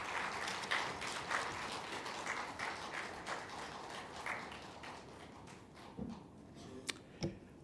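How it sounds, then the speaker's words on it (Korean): A church congregation at a New Year special service claps to welcome the pastor, a moderate patter of applause in a large room that thins out and ends in a few scattered taps and knocks. "나오실 때 우리 환영의 박수 하도록 하겠습니다."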